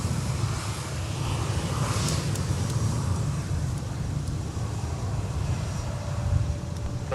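Airliner roaring down runway 30 right at Minneapolis–St. Paul airport on a winter day, a steady deep engine rumble heard from a distance with wind noise.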